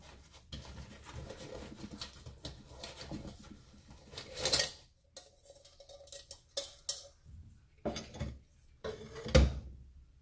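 A metal camp pot clatters and clinks as it is handled and packed into a bag, with scattered knocks, rustles and scrapes at close range and no talking.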